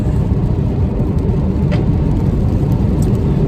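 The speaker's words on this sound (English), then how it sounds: "we've got our foot down, and off we go" A BMW 2 Series Gran Coupe M Sport accelerates on an open road, giving a loud, steady low engine drone and road rumble from inside the cabin, with no voices.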